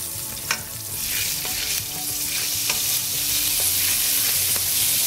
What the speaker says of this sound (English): Once it's nice and warm, we're going to add our cumin in.